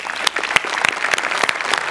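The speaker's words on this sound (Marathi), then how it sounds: "मस्त परफॉर्मन्स झाला, जोरदार टाळ्या यांच्यासाठी." Dense applause from a studio audience after a Marathi comedy sketch on a TV comedy show, steady clapping with sharp individual claps standing out, no talking over it.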